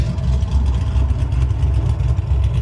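A 2014 Jeep Grand Cherokee with an aftermarket exhaust idles with a deep, steady burble, low and continuous throughout.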